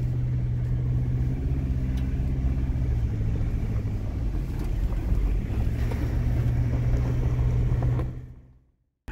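A Ford Ranger Raptor pickup drives off-road, heard from the open bed as a steady low engine drone mixed with heavy wind rush and rattling, loud and continuous before cutting out abruptly.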